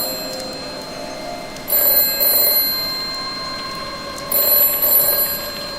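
An old-style telephone bell rings in a Doctor Who audio drama, two distinct bursts of bright trilling separated by a pause, heard close over a faint background hum.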